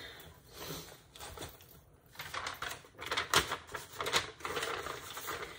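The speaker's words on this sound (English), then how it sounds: "Sorry for the paper rustling." Paper cover sheet rustling and crinkling during cross-stitch handling, a series of crisp, close crackles and brushing bursts that grow busier and louder in the second half, with no talking.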